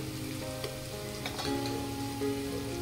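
Turmeric, red chilli powder and other ground spices hitting hot oil in a pan while sode bhat is cooked, giving a steady close sizzle and fry crackle with faint stirring scrapes throughout.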